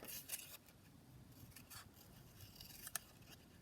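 Scissors cutting around the edge of a small paper ticket, close, quick snips over a soft rustling background, several short cuts in a few seconds, no voices.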